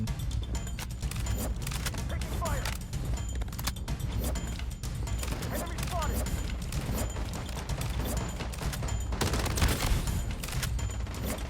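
Dense, continuous gunfire and mechanical weapon clatter from the video game Blood Strike, bursts layered over a busy game mix with steady loudness throughout.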